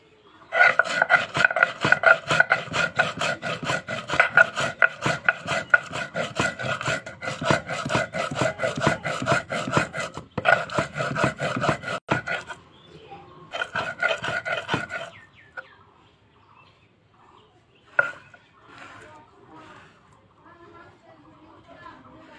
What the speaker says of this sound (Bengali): এরপর জিরে পিষে নেব।